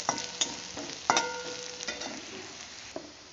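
Red amaranth greens fried in a pan over a low-to-medium gas flame, a light steady sizzle broken by several spatula taps and scrapes, close and moderately quiet, no speech.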